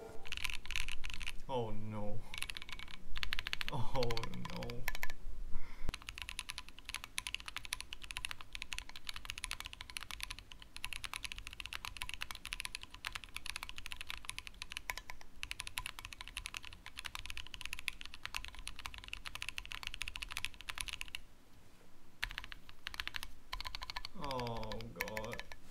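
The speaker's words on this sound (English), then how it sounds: "here is what a concrete keyboard sounds like." A mechanical keyboard in a concrete case being typed on, a dense, continuous patter of keystrokes running throughout, with a person speaking briefly at the start and again near the end.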